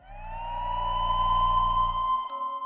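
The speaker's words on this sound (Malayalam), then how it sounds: "പക്ഷെ പെട്ടെന്ന് ഒരു ആംബുലൻസിന്റെ സൗണ്ട് ജോൺ കേൾക്കുന്നു." An ambulance siren wails in a steady rising-and-falling tone that swells in loudness, then a low rumble drops away as the wail continues alone.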